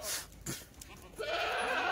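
Goats bleating on a farm where goats are being shown for sale, a couple of bleats early and then a sustained, loud nasal bleat in the second half, close by.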